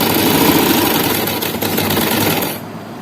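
A sewing machine stitches an umbrella frock, a loud continuous mechanical whir with rapid needle clatter that stops abruptly near the end.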